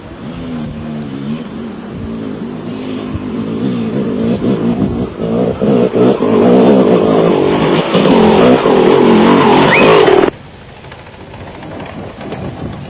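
Raceco off-road race car at the Roof of Africa rally in Lesotho, engine roaring louder as it approaches and revs hard, then cutting off abruptly near the end, leaving quieter background rumble.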